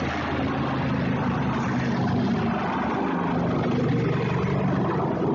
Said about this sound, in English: got an airplane, helicopter out here flying with us, so you're going to hear the helicopter go over